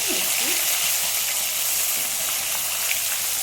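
Small skinned fish fry in a pan of hot oil, a dense and steady sizzle that crackles loudly and without a break, with faint scraping beneath it.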